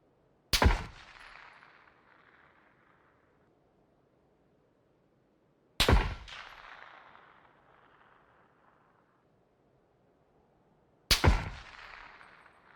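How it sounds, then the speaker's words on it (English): Three sharp gunshot cracks in PUBG, evenly spaced about five seconds apart, each a loud close snap trailing off into a fading echo over near-silence. "When a bullet passes closely by you and misses, you can clearly hear the bullet whizzing past your ear"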